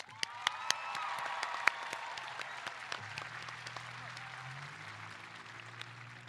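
A crowd at a high school graduation ceremony for the class of 2021 breaks into sustained applause, dense clapping with a few sharper claps near the start, fading slightly toward the end without clear cheering.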